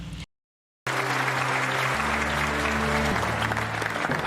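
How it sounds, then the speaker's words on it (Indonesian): Prisoners applaud Knuckles in a film scene: after a brief silent gap, a dense burst of clapping swells and holds steady, with sustained music tones running beneath it. "Knuckles pun keluar disambut tepuk tangan meriah dari para tahanan."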